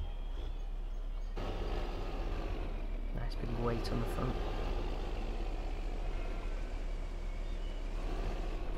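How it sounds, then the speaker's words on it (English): A tractor engine idles steadily in the Farming Simulator 2015 video game, a constant low rumble running throughout with someone talking over it. "This tractor should be fine, it's got plenty of horsepower."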